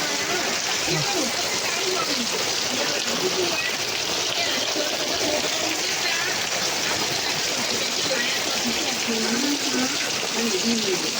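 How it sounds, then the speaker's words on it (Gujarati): Heavy rain falls in a steady, even hiss that does not let up, while people talk over it nearby. "પૂરેપૂરો વરસાદ ચાલુ થયો છે"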